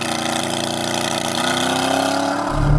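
A Corvette Z06 with a naturally aspirated V8 idles steadily and loudly, then begins to rise in pitch toward a launch as the clip ends, with no talking.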